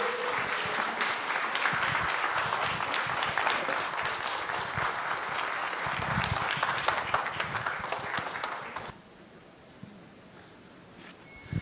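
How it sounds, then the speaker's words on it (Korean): Sustained audience applause at a Yeosu invited lecture, dense and loud for about nine seconds before dropping off abruptly to quiet room tone as the speaker is welcomed to the stage. "큰 박수로 환영해 주시기 바랍니다"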